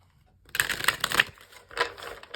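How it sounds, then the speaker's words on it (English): Large tarot cards being shuffled by hand, a close dry riffle of papery flicks and rustles in two bursts, louder then briefly softer, with no talking. "let me just shuffle one more time, and then we'll be good"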